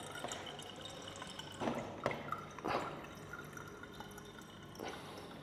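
Tap water runs and drips into a glass bottle in a hotel room in Pattaya, a soft trickle with a few louder splashes and clinks over a faint background hum.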